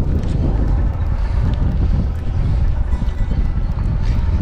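Horse hooves clip-clop steadily on a spirited horse ridden through brushland during a cattle roundup, with heavy wind noise buffeting the microphone throughout.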